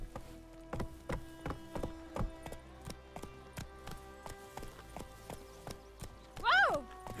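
Roach, the horse in The Witcher 3, gallops with clear rhythmic hoofbeats, and a short whinny sounds near the end of the run.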